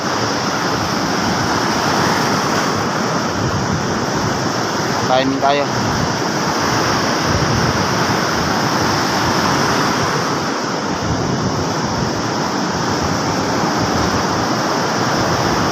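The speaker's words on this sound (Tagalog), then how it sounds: "Malaki pa alon." Big ocean waves roar and break continuously in a loud, steady wash of surf during a typhoon, with a brief voice heard partway through.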